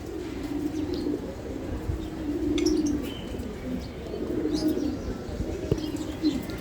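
Racing homer pigeons at a bird market, soft low cooing that repeats steadily throughout, close by, with occasional faint chirps and light rustling.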